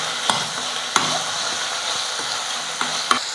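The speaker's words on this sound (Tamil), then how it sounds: "நல்லா வதக்கிக்கலாம்." Onion and tomato sizzle steadily in a pan, with a few sharp scrapes and clinks of a spoon stirring at irregular moments.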